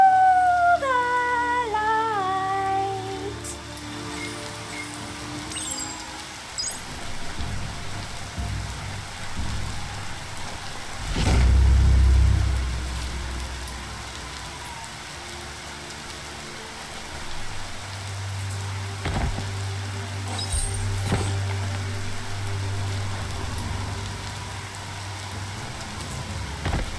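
Steady rainfall in the video game Biomutant, a constant wash of drops with faint low rumbles and brief musical tones early on, no talking.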